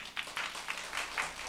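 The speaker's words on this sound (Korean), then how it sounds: "우리 강사님 나오실 때 큰 박수로 맞이해 주십시오." Clapping from a church congregation at a mothers' prayer meeting welcoming a speaker, a short burst of moderate, fairly even claps lasting a moment.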